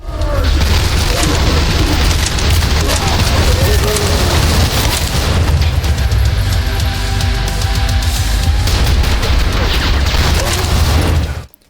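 Rapid sustained fire from a Gatling-style minigun-barrel LMG in the shooter game Trepang2, a dense loud roar of continuous shots running nearly twelve seconds with booming low rumble and no pause.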